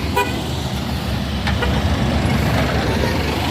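A trailer truck tows a stalled FAW truck up a steep hill, a heavy, constant engine rumble close by with a brief horn toot.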